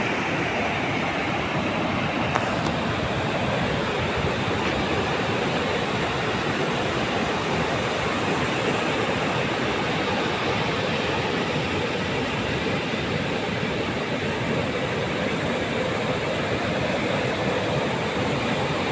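Broad, steady roar of sea surf at Payyambalam beach in Kannur, a continuous wash of breaking waves heard up close and loud for the whole stretch, with no voices over it.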